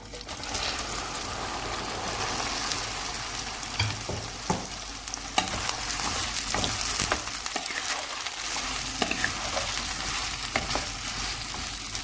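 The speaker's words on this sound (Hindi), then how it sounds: "अभी हमने भिंडी को तेज़ आंच पे फ्राई करना है।" Okra fries in hot mustard oil over high heat, giving a dense, steady sizzle with scattered crackles and stirring scrapes throughout, close and fairly loud, with no voices.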